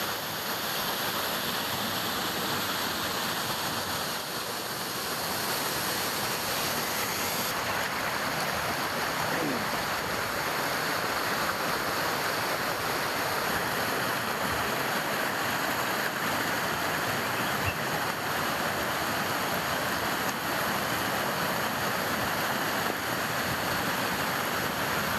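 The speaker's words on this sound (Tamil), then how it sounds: "இந்த மழை காரணமாக வீதிகள் மற்றும் ஆறுகளில் தண்ணீர் ஆர்ப்பரித்து ஓடியது" Heavy floodwater after torrential rain rushes through streets and swollen rivers around Ooty and Coonoor, a steady, dense roar of churning water that holds unbroken and fairly loud from start to finish with no voices over it.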